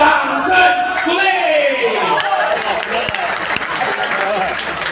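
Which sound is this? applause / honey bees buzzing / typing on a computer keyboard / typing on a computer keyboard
applause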